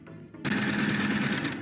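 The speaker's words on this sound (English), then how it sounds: "That right there is the sewing machine." Sewing machine sound effect from the bomb-defusing video game Keep Talking and Nobody Explodes, a steady rapid mechanical rattle that starts abruptly after a brief quieter lead-in and runs continuously and fairly loud to the end.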